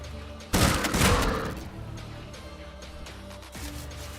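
A spud shotgun fires in a video game, a loud burst of blasts for about a second followed by a softer rumbling tail and a smaller shot near the end.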